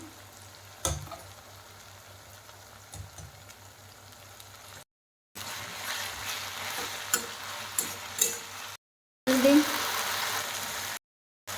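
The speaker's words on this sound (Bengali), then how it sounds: "এখন সেদ্ধ করা কচুরলতিগুলো দিয়ে দিতে হবে।" Boiled kochur loti (taro stolons) go into a frying pan of tomatoes, producing a sizzling, rustling fry with scattered stirring clatters, broken by a few short silent gaps.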